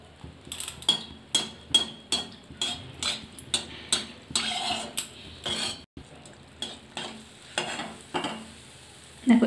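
Fry cakes cooking in oil at home give a steady sizzle, broken by repeated close clinks and scrapes of a utensil against the pan at a quick, uneven rhythm, with no voices.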